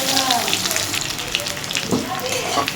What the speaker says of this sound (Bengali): সেদ্ধ আলুটা ভেজে নিচ্ছি এখানে